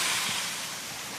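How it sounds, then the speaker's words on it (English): Roadside waterfall in Oregon: a steady, close rush of falling water hisses without pause, a dense broadband roar with no voices. "Roadside Waterfall."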